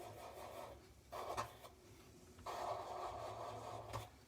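A wireless electric nail drill files gel nails in short bursts of gritty, whirring abrasion, close and quiet. Brief pauses separate the passes, and a longer grinding stretch runs toward the end.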